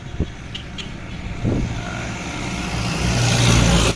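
A Yamaha Aerox scooter with a stock engine and oversize tires accelerates, its engine note building to a loud, rising drone before cutting off abruptly.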